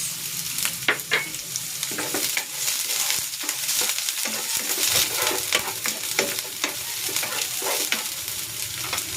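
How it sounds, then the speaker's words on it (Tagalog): Ginger and onion sauté in cooking oil for kinunot na galunggong, with a loud, close sizzle and repeated scraping taps of a spatula stirring in the pan. "Igigisa ko na tong luya. At itong sibuyas."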